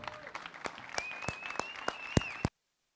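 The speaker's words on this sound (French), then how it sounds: "on peut les applaudir" Small audience at a talk giving a sparse round of applause, individual claps spaced out at a moderate distance, with a faint tonal sound running behind them, cutting off abruptly into silence.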